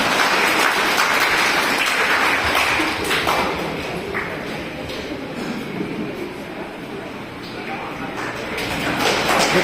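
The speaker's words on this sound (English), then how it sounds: "Clap, clap, clap." A crowd at a regional church youth meeting claps in a dense, continuous wash of applause that dips slightly midway, then swells again.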